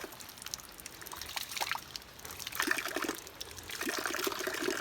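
Water flowing from a pipe fed directly by a nearby village well, a soft, uneven trickle and splash with irregular bursts over a quiet outdoor background.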